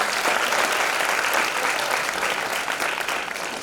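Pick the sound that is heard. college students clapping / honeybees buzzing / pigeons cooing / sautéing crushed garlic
college students clapping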